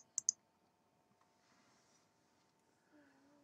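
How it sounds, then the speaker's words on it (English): A single mouse click on an on-screen compose button in an email messaging program, a sharp close double-tick near the start followed by quiet room hum. "we click on the compose button here"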